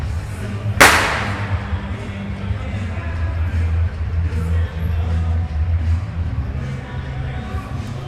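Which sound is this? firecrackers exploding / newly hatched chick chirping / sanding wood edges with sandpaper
firecrackers exploding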